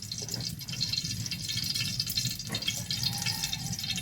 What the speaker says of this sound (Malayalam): ഏകദേശം രണ്ട് സ്പൂണോളം നെയ്യ് ഇട്ടിച്ച് കൊടുക്കുക